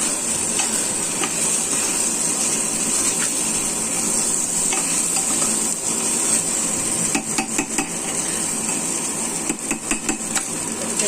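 Khichdi base with salt and turmeric frying in a pot makes a constant close sizzle, while a utensil stirs and scrapes, with sharp clanks bunching up toward the end.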